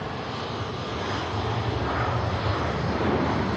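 A KLM airliner taxis at Manchester Airport, its engines giving a steady, continuous roar at moderate distance that holds even and broadband throughout, with no voices over it.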